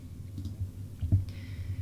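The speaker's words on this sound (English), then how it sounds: "I'm right clicking and hitting replace background" A computer mouse gives a couple of soft right-clicks while someone edits a Canva template. The clicks are short, close and quiet over a low steady background hum, and no one speaks.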